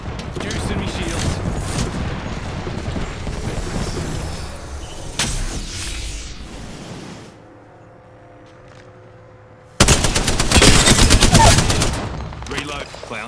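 Rapid bursts of video game gunfire crackle through the first seven seconds, drop to a quiet hum, then return in a loud, dense volley near the end, with a voice talking over the action.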